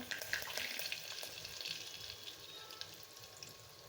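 Asafoetida and curry leaves crackle and sputter in hot oil for a Punjabi-style moong dish, a soft, fairly faint sizzle with scattered pops.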